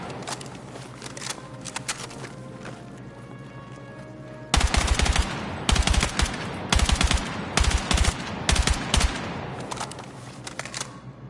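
Rifle fire from a Battlefield 6 match: a sustained background of distant shots, then from midway loud, close bursts of rapid automatic gunfire arriving in clusters with short gaps between them.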